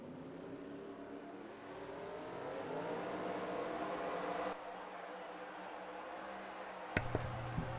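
Race car engines of a NASCAR-style field firing up together in a racing video game at Boston International Speedway, a 1.09-mile oval, a steady droning roar that builds, then shifts, with a few sharp clicks near the end.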